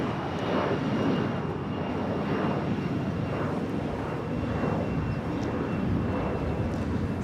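An Airbus A321 jet arriving at LAX from Boston makes a loud, steady roar that fills the whole stretch with broadband engine rumble, with slight swells as it passes.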